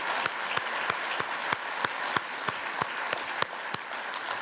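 A conference audience at a policy summit applauds in a sustained, even roar of many hands, with a few sharp, prominent claps repeating at a steady beat near the microphone.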